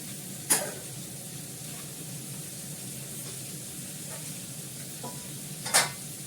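Ginger paste for dal frying in a pan: a soft, steady sizzle throughout, broken by two sharp utensil clinks near the start and end.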